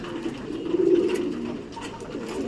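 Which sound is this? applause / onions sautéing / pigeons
pigeons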